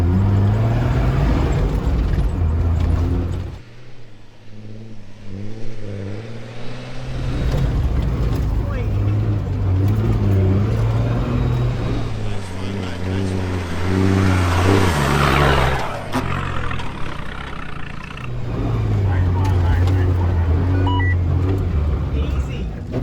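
A 4WD car crosses bumpy sand tracks in the Simpson Desert, its engine droning and revving steadily up and down close by, while people talk inside the cabin.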